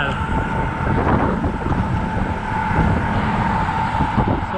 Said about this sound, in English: So far the wind isn't super bad